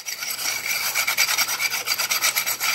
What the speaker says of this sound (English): rub it all over some rough concrete. Get a nice scratchy surface